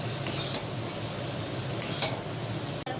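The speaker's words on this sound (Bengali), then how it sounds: "এবারে এই নুডলসটা দিয়ে দেবো। এবারে ভালো করে ভাজি।" Noodles stir-fried in a pan give a constant close sizzle with repeated scraping and clinking strokes of a utensil against the metal, no talk.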